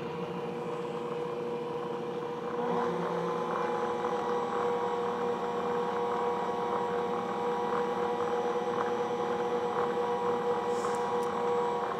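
An electric mixer runs on low through cake batter made with fresh milled flour, giving a steady motor hum and whir that steps up slightly after a couple of seconds and then holds even and close.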